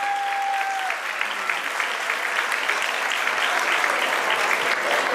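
Wedding guests applaud at a celebration in Wels, Austria, a steady, loud wash of many hands clapping together that runs throughout, with no voices standing out.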